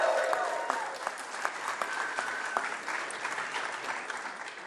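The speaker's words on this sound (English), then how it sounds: "Can we give that a round of applause?" Audience applause fills a State Department Pride Month celebration, steady dense clapping from a sizable crowd at moderate distance, with a few voices faintly audible underneath.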